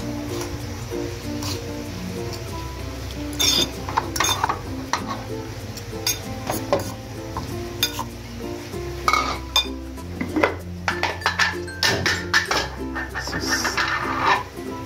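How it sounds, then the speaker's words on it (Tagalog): A spoon stirs sliced onions and other ingredients together in a frying pan, making repeated clinks and scrapes against the metal over a faint sizzle, while music plays in the background. "Tapos haluin."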